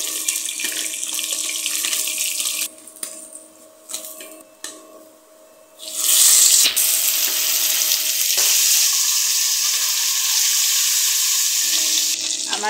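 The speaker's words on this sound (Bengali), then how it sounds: "আমার মাছগুলা ভাজা হয়ে গেছে, আমি লাল লাল করে ভেজে নিচ্ছি" Tilapia fries in oil. It begins with a softer bubbling and clatter, then a loud, dense close-up sizzle takes over about halfway through and holds steady to the end.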